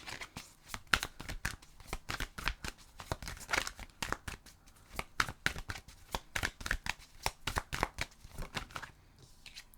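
Tarot cards are shuffled and handled in a close, steady run of soft papery flicks and slides, rhythmic and continuous for nearly ten seconds with no voice.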